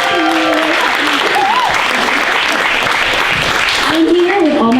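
Theater audience at a song performance claps and cheers in a steady, dense burst throughout, with a voice speaking over the applause at moments.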